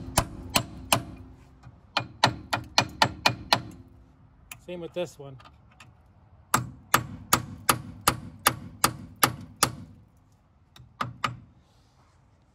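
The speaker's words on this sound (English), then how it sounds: "you hammer this really, really hard" A hammer drives an 11 mm socket onto a seized front brake bolt on a 1994-2004 GMC Sonoma, sharp metallic strikes in rapid bursts of several blows, close and loud, with a brief spoken remark between bursts.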